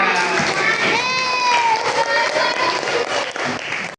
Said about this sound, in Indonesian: Sekarang tepuk tangan semuanya.